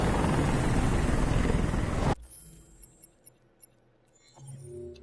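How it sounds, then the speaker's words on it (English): Helicopter hovering in the video game Detroit: Become Human, a loud steady rotor roar that cuts off abruptly partway through, leaving a quiet backdrop with a few faint ticks. "I don't think the helicopter does anything, so it doesn't matter if I get rid of it."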